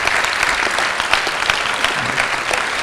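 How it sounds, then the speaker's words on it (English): A closing ceremony audience of hackers applauds sponsors, dense clapping filling the room steadily from start to finish. "So a big round of applause for all of our sponsors too"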